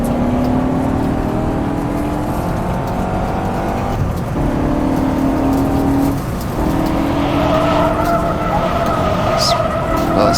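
BMW M5 in the rFactor2 racing sim drifting, a steady loud engine drone with shifting pitch, repeated gear changes and tire scrub running continuously throughout.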